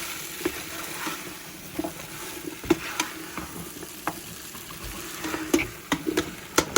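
A spoon stirs homemade gumbo in a pot; soft scraping and clinks come at irregular intervals over a steady low sizzle, close and moderately quiet.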